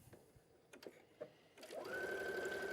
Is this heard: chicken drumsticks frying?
no